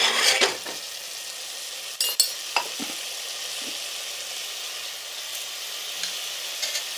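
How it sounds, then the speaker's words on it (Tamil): Tomatoes with ginger garlic paste sizzle as they are sautéed in a pan, a soft steady frying hiss broken by a few clinks and scrapes of a stirring spoon; no talking. "தக்காளி ஆட் பண்ணிக்கினேன், தக்காளி ஆட் பண்ணி நல்லா வதக்கலாம்."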